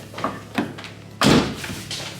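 A Nissan 350Z car door shut with a solid slam, preceded by a couple of lighter taps and knocks, the main thud loud and close.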